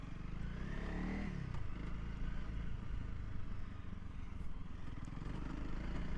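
A 2023 Honda CRF300L Rally motorcycle rides over rocky ground, its engine thrumming steadily and close, with rattles and clatter from the rough terrain mixed with wind noise.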